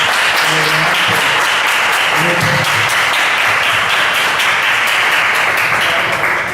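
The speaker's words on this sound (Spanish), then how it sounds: "Me gustaría que le brindemos un fuerte aplauso a este" A crowd at a technology seminar applauds loudly and continuously, a dense wash of clapping with a few voices faintly mixed in underneath.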